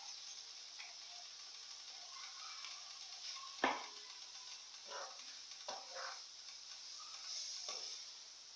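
Cooked shredded chicken breast dropped into a sizzling sauté, a soft steady hiss with a few sharp clacks and stirring scrapes of a utensil against the pan, close and quiet.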